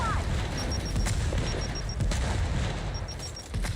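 A thrown grenade explodes during a video game firefight, with a loud, sustained roar of blasts and gunfire filling the whole stretch and a repeating electronic beep over it.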